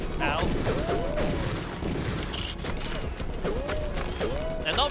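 Gunfire in the video game Deus Ex, a rapid fusillade of close shots and mechanical clatter in a game scene, with a voice cutting in briefly.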